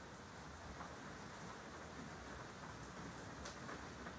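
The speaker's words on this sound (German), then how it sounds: "jetzt regnet es schon ziemlich stark. It's raining outside." Heavy rain falling outside, a steady dense hiss of downpour with no breaks, faint and distant, with no voices.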